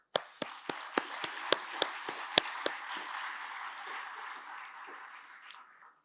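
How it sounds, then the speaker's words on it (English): An audience at a Quad Young Fellows event claps, starting with a string of sharp, separate claps that spread into a moderate, fairly close round of applause and then fade out. "Please give them a big applause."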